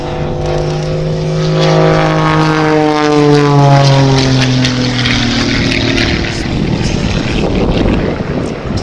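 A Jet Pitts aerobatic biplane climbs and performs snap rolls at an outdoor air festival, its engine roaring loud and close with a droning tone that sweeps down in pitch as the aircraft passes and recedes.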